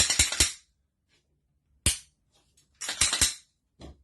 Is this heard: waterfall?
no